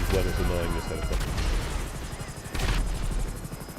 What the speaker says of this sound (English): when it's annoying this helicopter.